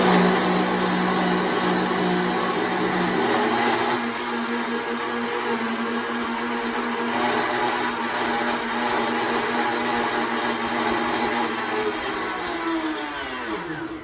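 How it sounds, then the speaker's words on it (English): Countertop blender whirring steadily as it mixes homemade powdered coffee creamer ingredients, a loud continuous motor drone that shifts pitch slightly partway through and winds down at the end. "You're gonna blend it 2 more times, but blend it."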